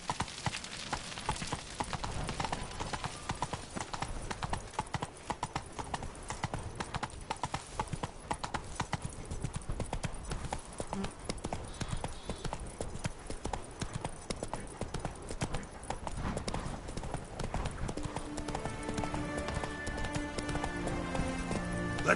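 Roach, a horse in a video game, trots with steady, loud clip-clopping hooves throughout, layered over game music with a sustained musical tone toward the end.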